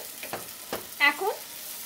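Masala paste for butter paneer masala is stirred in a frying pan: a few soft spatula scrapes over a faint, quiet bubbling, with one brief squeaky tone in the middle.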